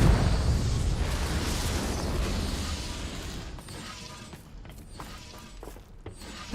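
A Confringo blasting spell in Hogwarts Legacy detonates with a loud, booming explosion right at the start, then a long rumbling tail that slowly fades with scattered debris crackles.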